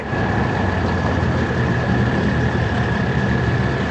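A diesel locomotive idles at a Durango and Silverton railroad station, a steady, loud, close rumble with a faint high whine running through it, with no talk over it.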